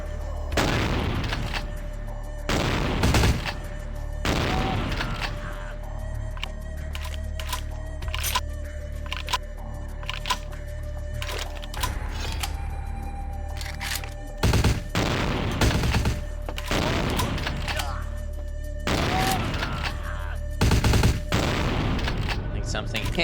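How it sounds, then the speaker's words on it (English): Gunfire from criminal gangs in the Vampire: The Masquerade video game, with dense volleys of shots and booming bursts that keep coming throughout and swell into louder clusters. "Since when did criminal gangs have so many guns?"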